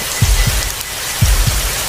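Steady cartoon rain hiss fills the scene, with a few soft low thumps of drops landing, loud and constant and with no voices.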